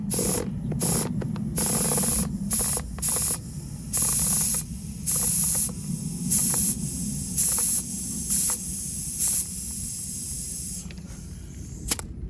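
Compressed air hissing in repeated short bursts into a garden wagon inner tube being inflated to about 40 PSI, loud and close with brief gaps between bursts and a faint click near the end.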